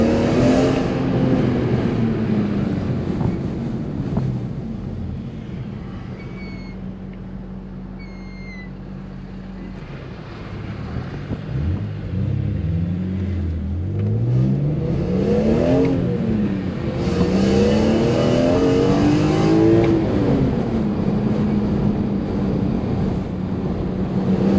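A BMW E46 M3 engine revs up toward 8000 RPM, rising and falling through several loud, smooth sweeps close by, with no talking.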